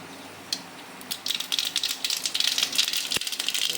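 Mustard seeds dropped into hot oil for tempering while cooking cheesy pasta begin crackling and popping, a dense rattling spatter that builds and holds close, with no speech.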